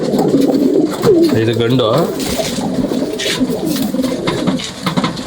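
Pigeons coo in repeated low, rolling calls close by, while someone talks over them.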